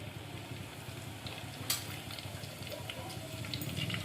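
Cumin seeds and garlic sizzle in hot oil in a home kitchen pan, a faint, steady crackle with a brief sharp tick and light stirring scrapes.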